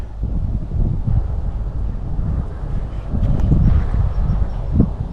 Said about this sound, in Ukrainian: Сьогодні трохи вітер.